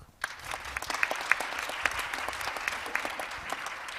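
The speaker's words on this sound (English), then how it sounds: "Let's show our appreciation with a big round of applause for Professor Park." An audience at a judicial conference applauds steadily for several seconds, a dense patter of clapping hands filling the room with no voices over it.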